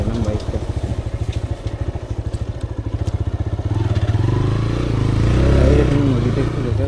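A motorcycle engine runs close by during a ride, a loud, rapid pulsing thrum that swells as the bike accelerates.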